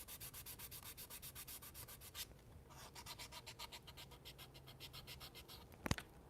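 Steady back-and-forth hand sanding with 240-grit sanding pads on a Corvair body part being customized, a rhythmic rasping scratch repeating evenly at close range with a brief pause midway and a sharp tap near the end.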